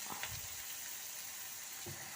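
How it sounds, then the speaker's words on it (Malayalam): Sliced onions frying in a pan, a steady, soft hiss of sizzling oil with a few faint clinks of utensils. "അപ്പോൾ നമ്മളെ ചട്ടിയിലേക്ക് സവോള ഇട്ട് കൊടുത്തു."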